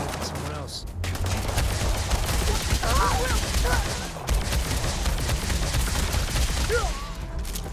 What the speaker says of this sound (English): it's like a tiny pistol